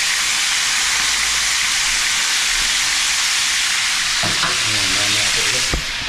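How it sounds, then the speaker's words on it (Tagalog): Loud, dense sizzling of tilapia frying in hot oil fills the clip, close and steady, with a voice speaking briefly near the end. "sa kabila ako po ay nagpiprito din ng tilapia"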